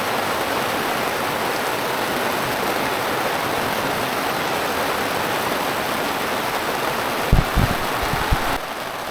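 Steady rain pours down outdoors in humid tropical weather, making a loud, even hiss throughout, with a few low thumps near the end.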